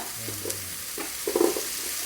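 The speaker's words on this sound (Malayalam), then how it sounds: "നല്ലതുപോലെ ഒന്ന് ഇളക്കുക" Spiced masala dosa potato filling stirred in a pan for Kerala-style masala dosa, giving a few soft scraping stirs with a gentle sizzle underneath, fairly quiet and close, with no talking.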